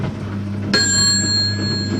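A bright bicycle-style bell rings once with a sharp 'pling', its clear metallic tone sustaining and slowly fading over a low steady hum, with no talking.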